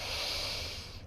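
A single long nasal inhale during a beginner's morning spine warm-up exercise, a close, airy hiss that holds steady and fades away at the end.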